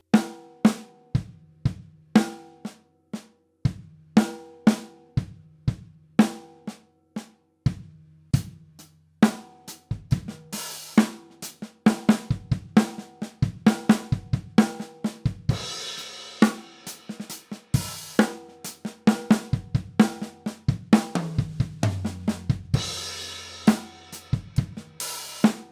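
Drum fill played slowly on a kit, single strokes alternating right and left on drums with kick drum hits between them, steady repeated patterns of sharp hits, close and clear with no talking.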